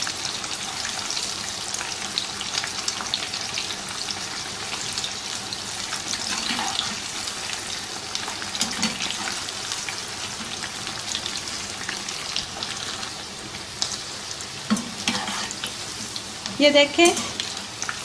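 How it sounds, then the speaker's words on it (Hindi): Chicken tempura deep-fries in oil over medium heat, giving a continuous, close bubbling sizzle with occasional stirring clinks and a brief spoken remark near the end. "ये देखिए, मीडियम हीट के ऊपर फ्राई कर रहे हैं।"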